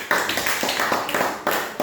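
Students in a classroom clap for a few seconds, giving sharp, irregular bursts of claps close by with no talking.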